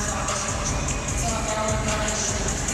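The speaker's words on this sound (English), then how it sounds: "Nice crowd here at the rack." A crowd in a gymnastics arena during a Penn State at Rutgers meet makes a steady, dense wash of cheering and chatter that holds at an even level throughout.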